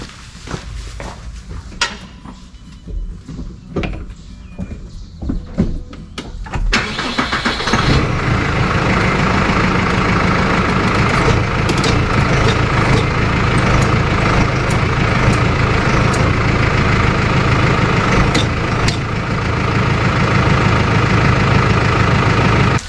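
A tractor engine cranks with several uneven turnover bursts for about seven seconds, then catches and settles into a loud, steady idle that runs on alone and close.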